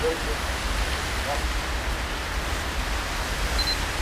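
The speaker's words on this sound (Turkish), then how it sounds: "Abi evde yağmur yağıyor." Rain falling indoors inside a house in a video game, a steady broadband hiss that runs unbroken and fairly loud from start to finish with no clear voices over it.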